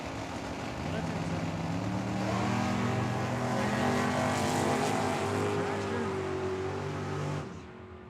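At Tucson Dragway, a dragster and a Camaro roar down the drag strip, their loud engines climbing in pitch together before cutting off abruptly near the end. An announcer's voice likely runs underneath.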